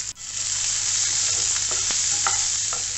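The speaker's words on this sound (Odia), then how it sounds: "ପିଆଜ ହାଲକା ନରମ ହେଲା ପର୍ଯ୍ୟନ୍ତ ଏମିତି ଭାଜିବା" Chopped onions with cumin and dried red chilies frying in hot oil in a pan for chana dal chutney, a steady loud close sizzle with a few soft stirring scrapes and no voices.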